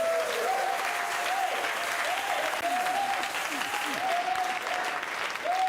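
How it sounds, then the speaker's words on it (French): A church congregation applauding to acclaim the Lord, a steady roomful of clapping throughout, with a voice calling out over it. "Quelqu'un peut acclamer le Seigneur."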